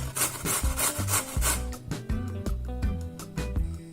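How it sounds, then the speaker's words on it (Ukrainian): A carrot is rubbed hard against a coarse grater in quick back-and-forth strokes, a close, rasping scrape repeated steadily. "На грубій терці натираємо одну моркву."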